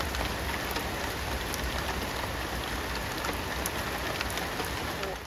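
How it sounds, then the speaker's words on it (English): Steady rain falls on a small vegetable garden where carrots are being planted, a dense even hiss of drops with scattered closer taps, continuous and moderately loud. "We got some rain."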